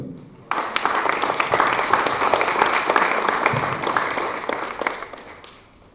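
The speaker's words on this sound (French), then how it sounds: "on peut l'applaudir" Audience applause breaks out at an exhibition opening in France, honouring a long-serving association member; dense clapping from a crowd rises sharply after a brief pause, holds steady for several seconds, then tapers off.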